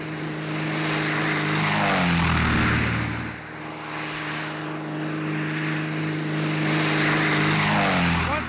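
A small propeller airplane flies in to land on a road near a mining zone, its engine drone loud and close, rising to a peak and then easing slightly as it passes, with no talking.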